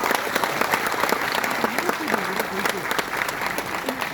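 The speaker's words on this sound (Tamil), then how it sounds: "நல்ல கைத்தட்டு கொடுங்க." An audience at a Tamil movie audio launch claps steadily in a dense, continuous burst of applause, with voices talking faintly underneath.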